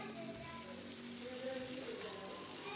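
Polao rice fries in a pot with chicken, a faint, steady hiss and crackle that runs evenly throughout.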